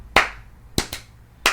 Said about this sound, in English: I have no idea why I'm doing the double claps right now